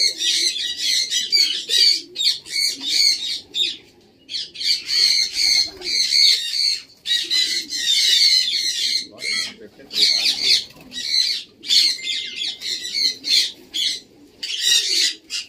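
A dense, noisy chorus of many birds squawking and chirping nonstop close by in a pigeon loft, with pigeons among them and brief gaps in the racket.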